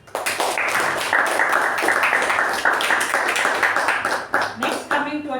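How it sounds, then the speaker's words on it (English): Meeting audience gives a warm round of applause for a first-time MC, a dense steady patter of many hands at moderate loudness that carries for several seconds before thinning out at the end. "Let's give a huge round of applause for our debutant MC today."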